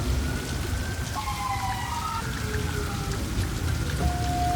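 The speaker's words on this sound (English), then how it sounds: "I'm just waiting for the rain to stop so that I can go inside because it's literally dumping rain right now" Heavy rain pours down outside a discount store, a steady loud hiss of drops hitting the ground and surfaces, with faint distant tones carried over the downpour and no voices.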